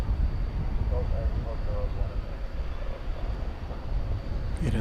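An American Airlines Boeing 777-200 heavy takes off on runway 18 left at DFW at night, its steady broadband engine roar sustained throughout and mixed with wind rumble.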